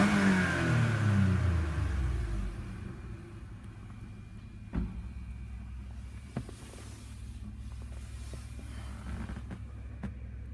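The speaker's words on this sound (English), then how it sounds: "Let me rev it up for you." A 2013 Toyota Venza Limited engine revs once at the start, the loud rise fading into a quiet idle with faint knocks and clicks, heard alone with no talk.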